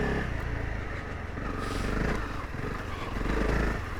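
A 2023 Honda CRF300L Rally motorcycle engine runs steadily in a low gear with a chunky, torquey low rumble, its loudness swelling slightly toward the end amid wind and road noise.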